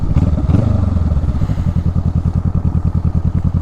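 A motorcycle loaded with Viking saddlebags idles and putters close by, its engine beating in a rapid, even chug with some clattering at the start, no talking.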